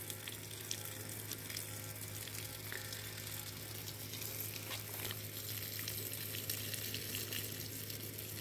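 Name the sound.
watering a durian tree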